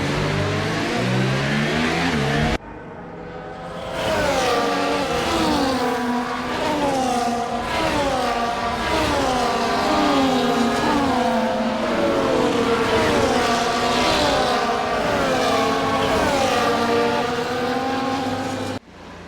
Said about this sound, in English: As all the cars take their positions on the grid